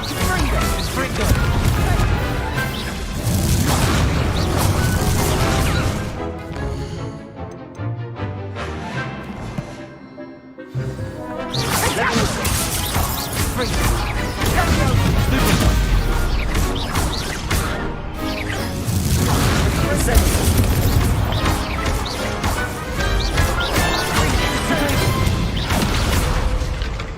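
Spell blasts in the video game Hogwarts Legacy crash and boom in loud, dense bursts, broken by a short lull near the middle, while a voice calls out over the action.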